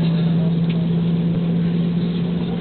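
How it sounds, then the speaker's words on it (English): A steady, droning jet airliner engine hum with a strong low tone, continuous and loud, as if heard from inside the cabin as the engines start. "the man's starting the engines"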